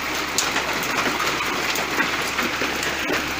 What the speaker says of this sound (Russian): Глянь, какие градины.